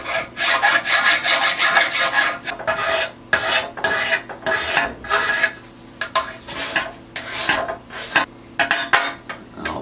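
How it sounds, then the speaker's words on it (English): A rasp smooths the leading edge of a handmade wooden boomerang wing in rhythmic back-and-forth strokes, each a loud gritty scrape separated by short pauses, close up with no talking. "Now I've got both leading edges done with the secondary filing process."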